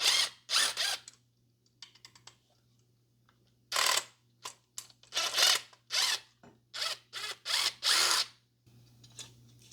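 Metal prying and scraping bursts as a flathead screwdriver works off the mounting ring of a hardwired garbage disposal under a sink, a series of short, close, ratcheting clicks and scrapes separated by pauses over a low steady hum.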